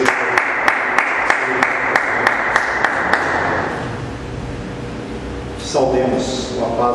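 Church congregation applauding at the close of a worship service, a dense wash of hand clapping with sharp rhythmic claps standing out, fading after a few seconds into room murmur before voices resume.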